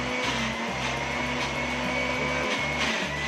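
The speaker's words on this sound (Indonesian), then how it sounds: "Ini aku masih proses untuk apa? Untuk blender bumbunya ya." A blender grinds spice paste for Surabaya gado-gado with a loud, continuous motor drone that wavers slightly in pitch, with short dips as the load shifts.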